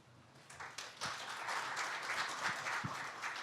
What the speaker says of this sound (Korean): 발표에 수고해 주신 김수석 박사님께 다시 한번 큰 박수 부탁드립니다